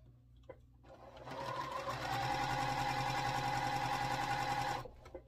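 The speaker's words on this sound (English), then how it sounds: "Okay, so we'll sew these two together." A sewing machine stitches quilt pieces together for a four-patch block. It starts quietly, then runs at a steady, fast, whirring hum for about three seconds before stopping, close and clear with no talk.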